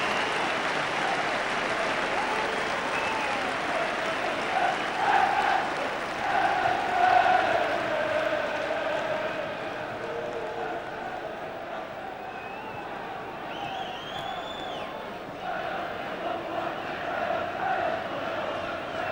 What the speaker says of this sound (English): The Woking fans defiantly booing them as they take the field.